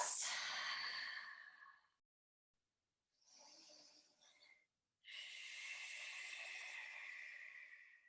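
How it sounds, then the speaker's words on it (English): Deep, long breaths during a yoga session: a loud exhale, a pause, a softer broken breath, then another long steady exhale, close and with no talking. "3 deep, long breaths."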